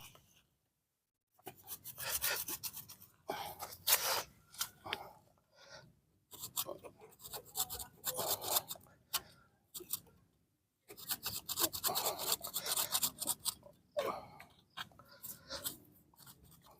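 A branch of a Loa bonsai tree is cut slowly from behind with a rasping, sawing stroke. Close scraping bursts come in separate runs of a second or two, with short silent gaps between them.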